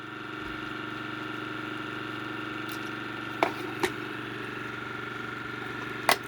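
A 3D printed pulse motor with a spinning disc rotor runs near its top speed, a steady close hum with faint whirring, broken by a few sharp clicks or ticks late on.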